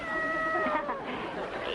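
A cat gives one drawn-out, wavering meow close by, lasting under two seconds against a hissy, older-sounding background.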